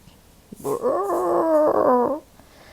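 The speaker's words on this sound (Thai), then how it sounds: "จิ้งจอกสีเงินหอนมาทางเจ้านายของมันอีกครั้ง" A silver fox gives a single close, drawn-out howl, rising and wavering for about a second and a half before breaking off into quiet.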